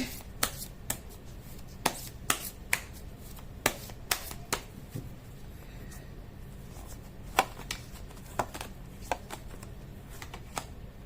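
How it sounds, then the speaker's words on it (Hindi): Tarot cards are shuffled by hand in a quiet room, giving a string of sharp riffling snaps and flicks at irregular intervals, close and crisp over a low background hiss. "मैं कर लेती हूँ कार्ड की शफलिंग।"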